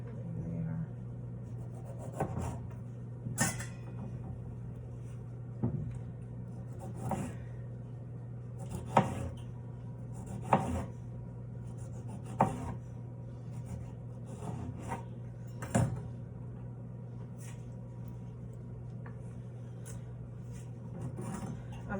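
A knife cutting eggplant on a board in a kitchen, a series of quiet, separate thuds and scrapes every second or two over a steady low hum.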